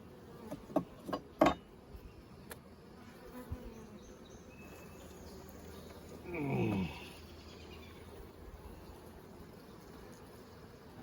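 Honeybees buzz around an open hive colony during a brood frame inspection, a low continuous drone with a few sharp close passes early on and a louder buzzing swell near the middle, all without speech.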